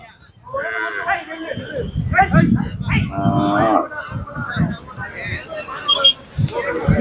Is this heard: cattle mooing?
yes